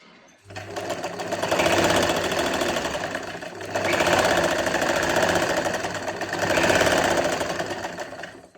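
A sewing machine stitches a finishing strip onto the edge of a dupatta, running in three long, steady bursts with brief pauses between them, loud and close, with no talking.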